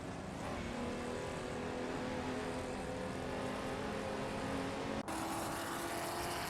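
Vintage race cars roar around a track in a racing video game, a dense continuous engine drone with steady high-revving whine from several cars at once, loud and unbroken, with a brief cut near the end.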